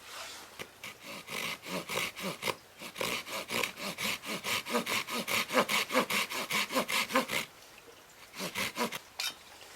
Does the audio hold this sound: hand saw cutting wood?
yes